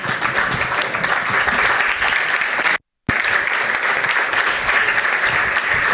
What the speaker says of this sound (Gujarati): એકવાર જોરદાર તાળીથી સ્ટેન્ડિંગ ઓવેશન આપીએ રામને